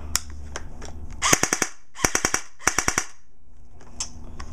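PWS Diablo gas blowback airsoft gun firing full-automatic, several rapid bursts of sharp snapping shots separated by short pauses, loud and close, with a few lighter clicks around them.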